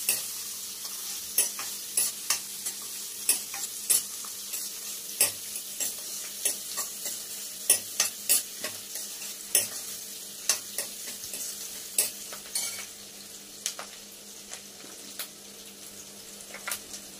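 Raw banana pieces fry in a pan after browning, a steady sizzle broken by regular scraping stir strokes roughly every half second to second, close and clear with no talk.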